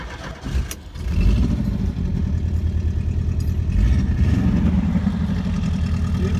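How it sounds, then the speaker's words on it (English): Westfalia camper van engine idling steadily with a rough, rumbling exhaust from small holes in the muffler, close and continuous after a brief start. "It's got muffler problems. Little holes in the muffler, but it runs."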